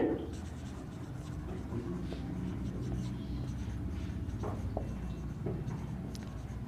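A pen scratches across paper as the heading for an accounting balance sheet is written out, soft continuous strokes close by with a faint voice underneath.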